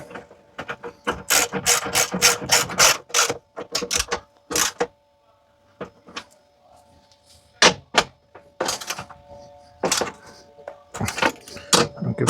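A ratchet clicks in rapid loud bursts as bolts on a campervan swivel seat base are tightened, with pauses, scattered metallic knocks and some brief talk between strokes.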